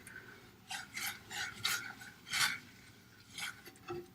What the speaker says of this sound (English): And now you just whisk it together.